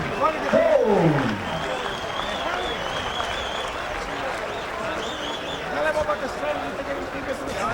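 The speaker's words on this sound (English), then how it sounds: "Ladies and gentlemen, a round of applause, please, for this young man from New York" A boxing arena crowd applauds a defeated fighter, with sustained clapping and crowd noise filling the hall as an announcer's voice carries over the top.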